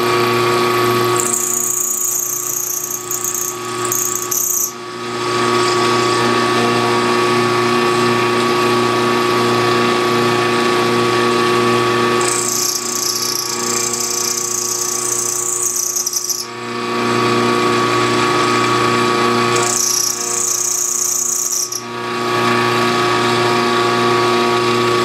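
A boring machine works on an engine cylinder block, giving a loud, steady mechanical whine and hum with bursts of a higher grinding tone in three separate stretches.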